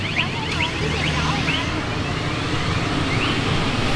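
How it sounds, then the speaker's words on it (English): A motorbike alarm wails on and off in repeating electronic sweeps and chirps, loud and close, over a constant outdoor street rumble in Saigon, Vietnam. "bike alarm"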